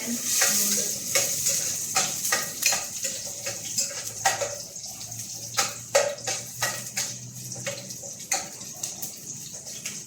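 Mung beans are sautéed in a pan with stirring, giving a sizzling hiss broken by repeated scraping, clattering stir strokes at an uneven pace, close by.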